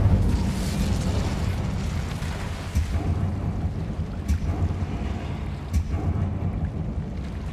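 A fire spell cast in Hogwarts Legacy roars on as a steady, dense rumbling burst, with a few sharp cracks and pops rising over a constant low crackling bed for several seconds.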